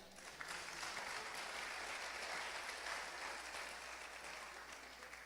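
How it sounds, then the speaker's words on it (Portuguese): A church congregation applauds steadily for several seconds, a broad, even wash of clapping from many hands in a large room, with no voices rising above it. "Se você crer, pode aplaudir."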